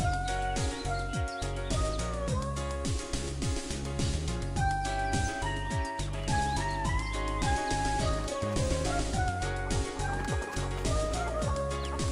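Hens cluck and gobble inside the video game Mabinogi, repeated short fowl calls set against constant, loud background game music.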